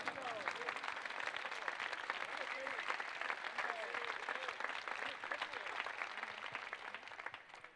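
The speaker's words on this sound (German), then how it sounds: "Wir sagen Dankeschön mit einem fulminanten Applaus an Cedric Teuchert." Soft, steady crowd applause at a football club's 2019/20 player farewell, honoring departing forward Cedric Teuchert, sustained and somewhat distant, with faint voices mixed in.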